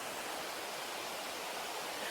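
Water rushes along a stream near Thommankuthu waterfall in a steady, broad hiss that stays even and unbroken throughout, with no voices over it.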